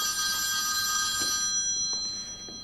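A telephone rings in a video game, a steady bright electronic ringing that fills the first half and then fades, with no talking.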